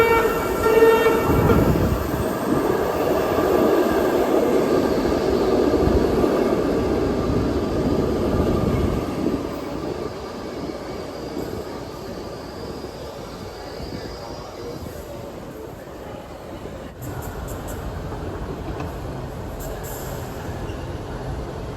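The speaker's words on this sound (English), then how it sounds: "that train was headed to Owings Mills, the western terminus" A Baltimore subway train bound for Owings Mills rumbles past at close range, a loud, steady roar of wheels and motors with a faint horn-like tone, easing off midway and settling into a lower hum.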